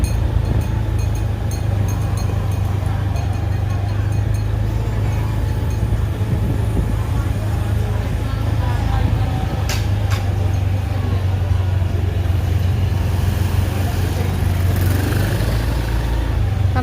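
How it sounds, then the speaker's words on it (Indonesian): Busy, congested street traffic in Bali around sunset fills the air with a constant roar of engines and tyres, a steady wash of vehicle noise that never lets up. "Jalanan agak sedikit macet karena mereka pada mau menikmati sunset."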